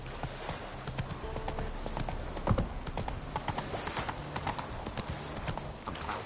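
A horse's hooves clip-clopping at a steady trot in The Witcher 3: Wild Hunt, a close, even rhythm over a soft background, with a brief louder thump partway through.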